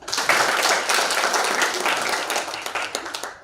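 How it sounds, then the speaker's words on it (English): Audience clapping for the team at a children's hospital event, a dense steady burst of many hands throughout, fairly loud and close, with no talk over it. "Just clap for yourselves."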